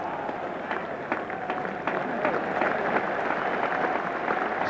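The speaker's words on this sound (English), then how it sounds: "So applause both for Randall and Lever." A cricket crowd at a 1985 county match between Essex and Nottinghamshire applauds Randall's fifty and Lever finishing his spell. The clapping is steady and scattered, and a commentator talks over it.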